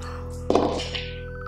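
Dice for a tabletop zombie board game land in one dull thunk on a table, followed by a brief rattling settle, over a steady low electrical hum.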